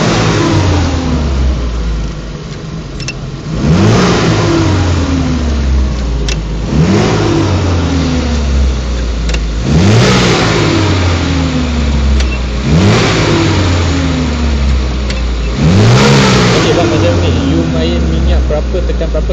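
A car engine revving again and again as the gas pedal is pumped, roughly every two to three seconds, each loud rise in pitch dropping back toward idle, with people talking throughout.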